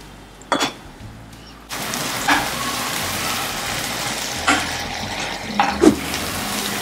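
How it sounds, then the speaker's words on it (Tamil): Ginger garlic paste and onion sauté in a pan over a medium flame for mushroom masala, a soft, steady sizzle with a few brief clinks and stirring noises. "இஞ்சி பூண்டு பேஸ்ட்டும் வெங்காயமும் நல்லா வதங்கிடுச்சு."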